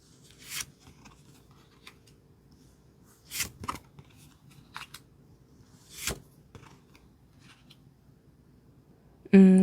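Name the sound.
tarot cards being shuffled and picked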